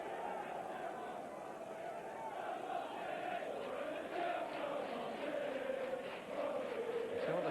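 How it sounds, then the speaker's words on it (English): A noisy football stadium crowd at a 1998/99 Division 2 match between Gillingham and AFC Bournemouth keeps up a continuous roar, with a commentator talking over it. "So the crowd are helping them, aren't they? They're very, very noisy."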